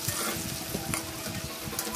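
Chopped onion and garlic frying in hot oil for a Bengali greens dish, a continuous crackling sizzle with stirring scrapes, close and steady with no talk.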